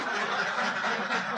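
Ducks on a duck farm give a dense, continuous chorus of quacking, busy and fairly close, with no talk over it.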